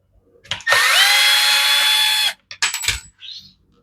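A power driver with a T25 bit spins out the case screws on a Husqvarna with a bad coil, one long steady whir followed by two short bursts, loud and close with no talking.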